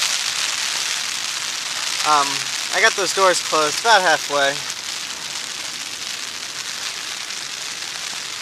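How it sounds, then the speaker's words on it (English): Steady rain patters loudly and evenly on a Geertop Navigator Plus tent, a dense hiss of drops throughout, with a person speaking briefly over it midway. "And now it's time for the rain test."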